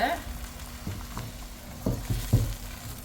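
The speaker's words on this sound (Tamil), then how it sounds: "ஓகே, முட்டையை நல்லா பொரிச்சு எடுத்துக்குவோம் நம்ம." Eggs fry in a large pan for nasi lemak, a close crackling sizzle with a few louder spatters and utensil knocks partway through.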